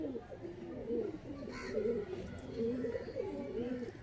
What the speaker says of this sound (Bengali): এটা হচ্ছে স্পেশাল পায়রা, স্পেশাল জিরিয়া।